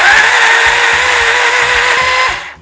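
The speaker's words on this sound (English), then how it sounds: "I'm going to use my Gimac blender from Ketonic Electronics." A Gimac electric blender whirs loudly and continuously at high speed for a couple of seconds while making palava sauce (kontomire stew), then cuts off abruptly.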